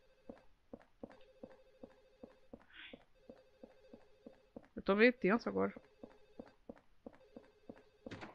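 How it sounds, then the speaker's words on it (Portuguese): A telephone bell in the survival horror game Silent Hill 4 rings over and over in a steady repeating pattern throughout, while a person talks briefly over it partway through. "Ai, esse telefone não para de tocar, né?"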